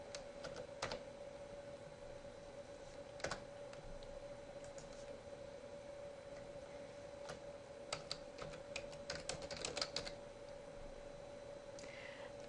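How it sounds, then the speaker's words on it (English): Quiet bursts of keystrokes on a computer keyboard, irregular clusters of soft clicks with pauses between, close and faint in a hushed room. "I'm going to type in abdominal pain"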